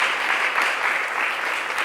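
Audience at a talk applauds, a dense, steady wash of clapping close and even throughout, with no speech over it.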